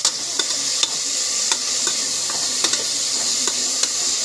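Sliced onions sautéing in a pan for ghee rice, a steady bright sizzle with repeated sharp clicks of a spoon stirring against the pan, no talking.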